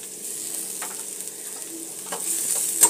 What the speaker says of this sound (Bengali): এর মধ্যে দিয়ে দেব ছোট ছোট করে কেটে রাখা পেঁয়াজের কুচি